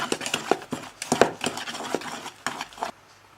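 Flour and butter cut in pieces being mixed by hand in a bowl for quick brioche dough, a series of close, irregular scraping and tapping strokes that end abruptly.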